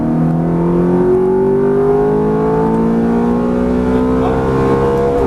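Ferrari F430 on a Las Vegas race track accelerating hard, its engine note climbing smoothly and loudly for several seconds as revs build, heard from inside the car with no talking.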